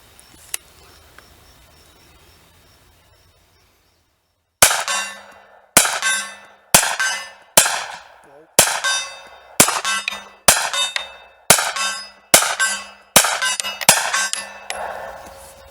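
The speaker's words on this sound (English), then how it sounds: "I knew when I pulled that trigger that time that I was going to miss." A Ruger PC Carbine take-down 9mm rifle fires eleven sharp shots outdoors after a quiet pause, at a steady one-per-second pace, each crack loud and close with a decaying echo.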